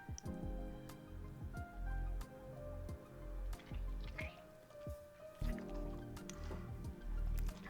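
Wet, squishy slime squelches and drips in an intimate comforting setting, a string of soft close sticky pops and gloopy squishes at an uneven pace, fairly faint.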